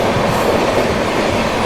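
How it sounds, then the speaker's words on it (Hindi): The Amritsar Bilaspur Chhattisgarh Express rushes past at close range, a loud, dense roar of rolling wagons and wheel rumble that holds steady throughout without any talking. "ये थी दोस्तों आप लोगों की छत्तीसगढ़ एक्सप्रेस।"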